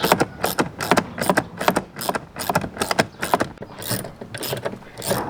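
A ratchet wrench clicks in rapid repeated bursts while working on a supercharged 3.7 V6 Mustang, close and steady with short pauses between strokes, no talking.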